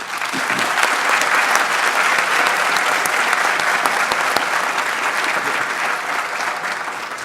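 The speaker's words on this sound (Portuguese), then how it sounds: "eu pediria uma salva de palmas." Loud, sustained applause from an audience at a pharmacy congress round-table session, dense continuous clapping with no speech over it.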